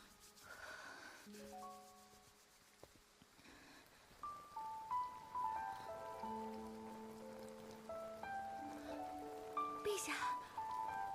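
Soft, steady rain hiss runs throughout beneath a gentle melodic tune of sustained notes, quiet overall.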